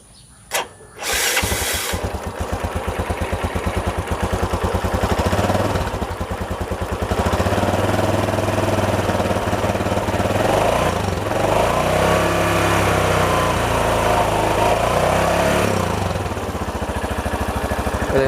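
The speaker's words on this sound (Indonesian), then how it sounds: "Meskipun sedikit, tapi memang mempengaruhi terhadap kemulusan dari keseluruhan suara mesinnya." Honda Jupiter Z1 motorcycle fitted with a TDR clutch block, idling close by in a steady, slightly rattly putter after starting, with a few revs lifting the pitch midway.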